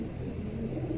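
Pigeons on a rooftop coo in a low, soft burble, a short close call with a male calling near a crate.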